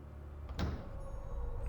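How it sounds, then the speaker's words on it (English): A short mechanical latch unlocks on a hidden door in RuneScape 3, a single sharp clack followed by a faint sliding rattle over a low ambient hum. "we hear a latch unlocking on a nearby door, which was obviously the hidden door."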